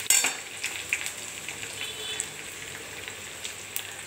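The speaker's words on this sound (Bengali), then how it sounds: "লঙ্কা দিয়ে দিচ্ছি, লঙ্কা, রসুন দেবো, রসুন এটা ভালো করে নাড়বো।" Chili and garlic fry in hot oil with tempering spices, a light crackling sizzle with a few sharp spatter pops and a stirring clink near the start, then a steadier low hiss, close by with no talk.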